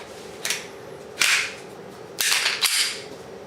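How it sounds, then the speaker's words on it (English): Metallic snaps and clacks of a Glock 26 Gen4 pistol slide being lined up on its rear guides and pushed back onto the frame, four sharp close clicks spread over a few seconds with no talking. "to reassemble the slide on the gun, just line up the rear guides"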